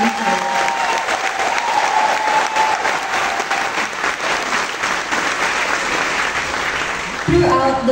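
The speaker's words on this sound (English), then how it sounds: "I would like to ask everyone to give our round of applause for our aeronautical engineering graduates" An audience at a graduation ceremony applauds steadily for several seconds, a dense wash of clapping that ends with a voice starting to speak.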